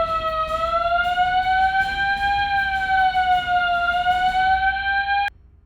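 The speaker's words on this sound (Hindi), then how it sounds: "पूरे घर में सेंट्रल अलार्म सिस्टम लगा रखा है।" A household central alarm system siren wails steadily and loudly for about five seconds with a slightly rising and falling pitch, then cuts off abruptly, leaving a quiet room tone.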